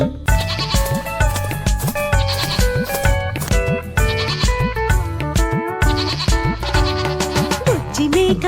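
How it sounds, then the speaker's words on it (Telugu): A little goat bleating repeatedly in a Telugu children's rhyme, its wavering cries set over a loud, continuous musical backing. "బుజ్జి మేక ఏడకెళ్తివి"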